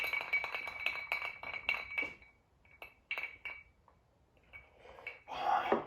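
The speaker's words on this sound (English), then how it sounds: "All right, clink them and drink them." Glasses of Striped Pig gin with chipped clear ice clink together in a few quick bright chimes and rattles, close by, followed by quieter ice shifting and a final louder clatter.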